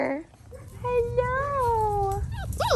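Puppies whimper in a long, high, wavering cry close by, followed by short squeaks, while a person speaks softly around them.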